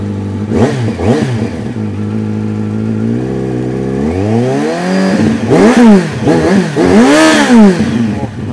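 A four-cylinder motorcycle engine revs up repeatedly, rising and falling in pitch with a loud, throaty exhaust note close by.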